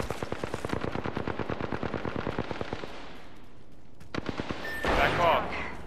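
Automatic gunfire in Apex Legends, a rapid, steady, close burst of shots lasting several seconds, then a pause and a shorter second volley followed by a brief noisy hit.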